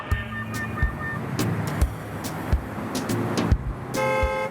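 Busy road traffic with several short car horn toots spread through the scene over a steady engine rumble, ending in a longer sustained horn blast; no talking.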